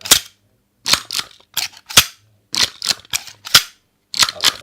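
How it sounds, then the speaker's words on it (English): A stapler is snapped and clacked as a foley stand-in for a gun being cocked, giving a series of sharp, close mechanical clicks in quick bursts with brief pauses between them. "What kind of a sound? A gun cock. You can use Any stationary objects. to create the sound. Staplers."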